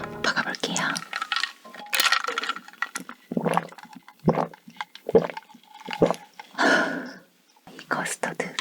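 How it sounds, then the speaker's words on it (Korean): Cold milk is sipped and swallowed close to the microphone in a series of soft, separate gulps with quiet pauses between them. "우유부터 먹어볼게요."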